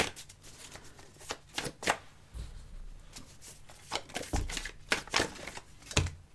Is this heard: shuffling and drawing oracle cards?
yes